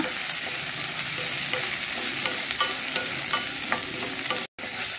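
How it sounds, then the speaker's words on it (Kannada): Washed, chopped okra (bhindi) fries in oil, a bright continuous sizzle with scattered crackles and spatula stirring scrapes, close and steady, with a brief dropout near the end. "ಈ ಬೆಂಡೆಕಾಯಿ, ಇದನ್ನೀಗ ಈ ಎಣ್ಣೆಯಲ್ಲಿ ಸ್ವಲ್ಪ ಹುರಿದುಕೊಳ್ಳೋಣ"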